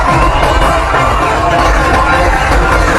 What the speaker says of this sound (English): the crowd finally have something to cheer about